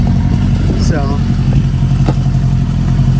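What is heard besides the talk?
1973 Harley Sportster motorcycle engine idling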